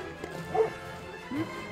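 A few dogs bark at a distance outdoors along a hiking route in Greece, with a couple of short faint yaps over a low background hum.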